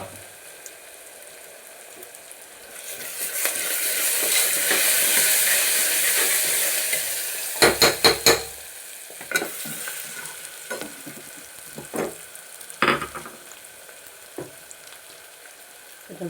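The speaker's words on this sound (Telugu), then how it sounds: "అల్లం వెల్లిగడ్డ పేస్ట్ వేయాలి." Ginger garlic paste sizzles in a hot pan, a loud hiss swelling then easing, followed by sharp scraping and clattering strokes of stirring at irregular intervals.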